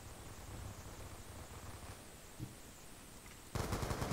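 SCAR rifle firing in a video game, a rapid burst of loud automatic shots that breaks in abruptly near the end over a hissy background of game noise.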